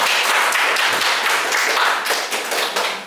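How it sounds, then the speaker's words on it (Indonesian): Dense audience applause fills the room in a continuous wash of many hands clapping, loud and close, holding steady for a few seconds before slightly tapering. "Oke, kasih tepuk tangan ya."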